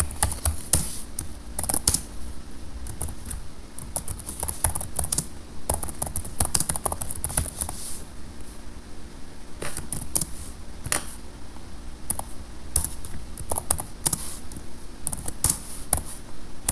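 Rapid, continuous clatter of keys on a computer keyboard, with irregular bursts and short pauses, close and steady throughout.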